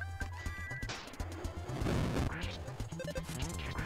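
In the video game Earthbound, a smash hit lands as a sharp crashing impact over the game's bouncy battle music. The hit is mid-level in loudness and followed by fluttering effect tones.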